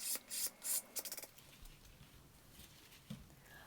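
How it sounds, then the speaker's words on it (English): The edge of a drypoint printing plate is filed and bevelled, giving a few quick, close rasping strokes at the start before the sound fades into quiet room noise. "That's softening and beveling the edge of the plate so that it goes through the press properly."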